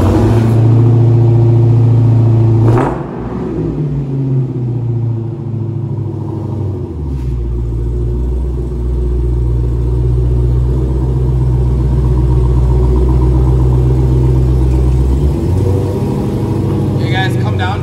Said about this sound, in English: I'm going to show you guys a cold start from outside too.